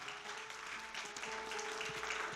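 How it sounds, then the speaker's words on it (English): Church congregation clapping their hands in praise during a New Birth Community Outreach service, a steady, moderately faint wash of applause with no speech over it. "Would you give our online viewers a hand clap of praise, New Birth?"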